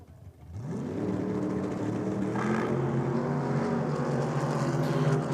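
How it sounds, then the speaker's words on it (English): A drag racing car on big slicks sits at the start line of a state championship meet. After a brief quiet moment its engine bursts into a loud, steady, close roar that holds without a break. "Hear those big slicks of Kelsey's grabbing for traction on the start line."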